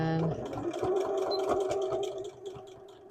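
A sewing machine sews an even stitch along a thrifted blouse in a brief close run lasting a few seconds, with quiet handling sounds at the end.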